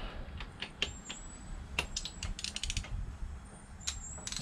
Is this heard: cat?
no